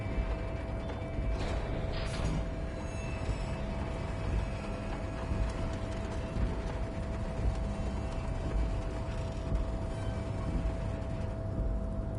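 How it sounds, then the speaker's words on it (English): A harbour crane in Disco Elysium shifts overhead with a steady, sustained mechanical grinding and creaking as it moves a massive metal container through the air. A constant hum runs underneath and there is no speech. "With a loud grind, the crane shifts overhead, moving a massive metal container through the air."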